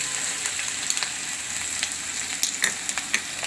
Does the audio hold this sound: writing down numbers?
no